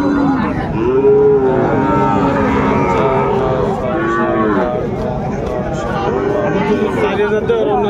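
A Sahiwal bull calf at a busy cattle market lets out repeated long, loud moos near at hand, over constant crowd chatter and voices talking.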